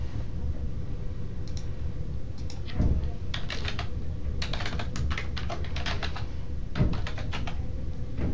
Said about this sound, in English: Here's where you type in the authorization code.